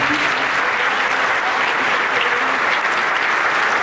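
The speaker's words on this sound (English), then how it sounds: "can we just have a hand clap for all our teachers?" Steady, dense applause from a crowd, continuous and fairly loud throughout with no pauses.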